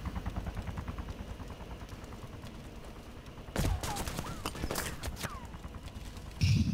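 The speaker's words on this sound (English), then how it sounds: "I see fire from over there, Wombat." Gunfire in the DayZ Overpoch game: a rapid, fairly quiet run of shots early on, then several louder, sharper bursts and single cracks toward the end, all heard alone at moderate distance.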